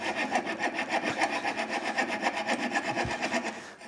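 Hand tools working out the waste wood between dovetail pins on a drawer for a hand tool cabinet, a steady run of rhythmic scraping and rasping strokes, close and continuous, with no talking.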